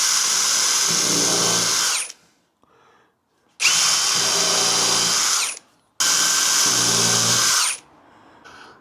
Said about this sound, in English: I'll drill up from underneath